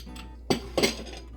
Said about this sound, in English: Now that everything is melted together, it's time to pour it into the mold.